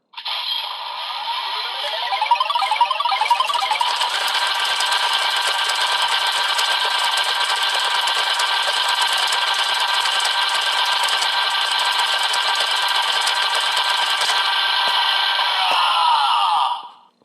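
A Zenkaiger DX Geartlinger toy gun gives a continuous buzzing, rattling rolled-R voice effect as its crank is turned, holding steady and loud for about sixteen seconds before cutting off abruptly.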